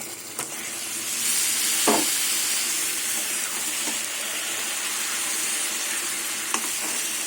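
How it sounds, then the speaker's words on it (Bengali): Marinated mutton for a potato and mutton curry hissing in a hot kadai, a loud steady sizzle that holds throughout with a couple of faint utensil clicks, close by. "এবার মাখানো মাংসগুলো দিয়ে দেবো"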